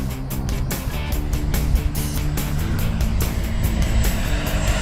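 A loud, steady engine roar with a rhythmic pulsing hum from an E-flite F-16 70mm RC jet passing close by, constant throughout.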